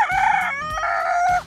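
A rooster of an all-black chicken breed, pitch black from head to toe from the hyperpigmenting condition fibromelanosis, gives one loud, close crow that lasts about a second and a half and stands alone.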